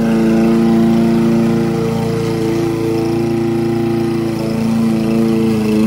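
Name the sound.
old lawn mower cutting grass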